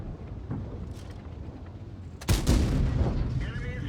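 A Super Conqueror tank cannon in World of Tanks fires a high-explosive shell, one loud close boom that follows quieter battle sounds, with rumbling echo afterward.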